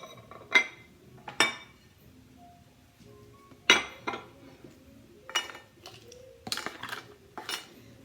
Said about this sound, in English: So mix together your salt, your baking soda, and your flour.